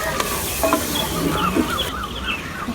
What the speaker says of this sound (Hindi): अच्छी तरह मिक्स कर लेंगे।